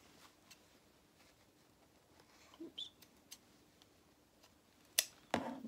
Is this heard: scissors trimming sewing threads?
yes